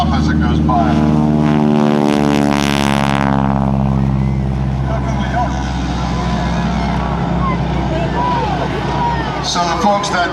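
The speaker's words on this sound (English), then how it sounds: "beautiful T6. Listen to the prop as it goes by." A T-6 Texan warbird propeller plane with supersonic prop tips passes at an air show, a loud rasping engine-and-prop roar that swells and falls with a sweeping pitch drop, continuing as a steady drone afterward.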